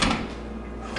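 A kitchen drawer slides open in an apartment, a short close rolling rumble lasting about a second with a slight knock at each end.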